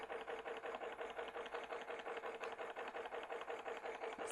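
An EEW Mini electric spinning wheel's motor runs at a steady, even speed, giving a close, continuous whirring hum with a fast regular pulse and no talking.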